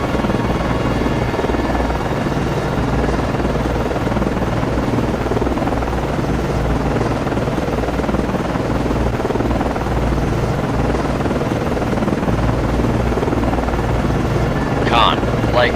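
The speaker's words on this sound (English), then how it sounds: "Con, FLICO, aircraft returning to base." A naval helicopter in the submarine game Cold Waters flies back toward its ship, its rotor throbbing loud and steady throughout, with a short faint radio-like chirp near the end.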